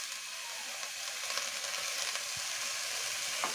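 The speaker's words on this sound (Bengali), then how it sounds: "এইটা একটু একটু ভাজা ভাজা হওয়ার পরে আমি এই সবজিগুলো দিয়ে দিচ্ছি, বাঁধাকপি, ফুলকপি" Chopped cabbage and cauliflower go into hot oil in a pan on a home stove, giving a steady, fairly quiet sizzle and crackle with a few small clinks of utensils, with no voices over it.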